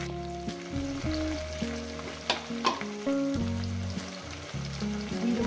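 Cauliflower and potato pieces sizzle steadily in a pan while being fried for a thin rohu fish curry, with occasional stirring scrapes and clicks over a sustained tonal background.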